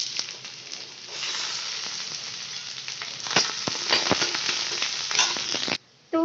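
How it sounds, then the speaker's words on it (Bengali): Chopped onions hitting hot oil in a wok, a loud, continuous sizzle with crackling pops and stirring, cutting off briefly near the end before resuming. "এর মধ্যে আমি কুচনো পেঁয়াজগুলো সব দিয়ে দিচ্ছি"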